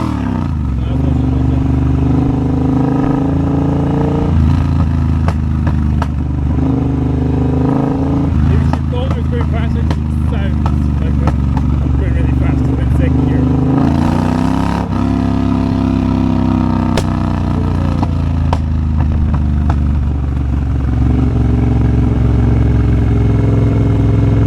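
A Triumph Bobber motorcycle engine runs loud and close, its low rumble rising and falling through repeated revs with some clattery mechanical noise, going on without a pause the whole time.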